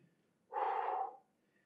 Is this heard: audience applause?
no